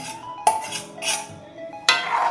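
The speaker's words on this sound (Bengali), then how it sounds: "এটাকে আমি খুব ভালো করে এবার নাড়াবো" A metal spoon stirs tomato soup in a pot, scraping and clinking against the sides in a few sharp knocks and softer rings, close up with no talk.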